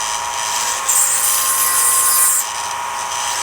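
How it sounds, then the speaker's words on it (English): A small drill working through a hole in a part of a 22-inch Eagle 1 model, a high steady whine that climbs into a louder, shriller grind for about a second and a half before dropping back. "I'm just putting the drill through and then moving it upwards so that the flutes open the hole up in the top section"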